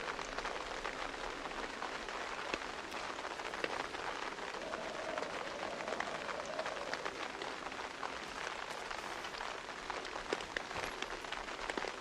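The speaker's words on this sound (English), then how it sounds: "The aggressive rain on tent noise." Rain falls on a tent in the survival video game Project Zomboid, a dense, steady patter of drops that stays constant and fairly soft for twelve seconds with no speech.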